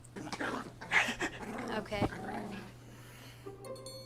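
Dog barking and growling in a home, with a few sharp barks and rough growls at moderate distance, heard alongside people talking over a steady low hum.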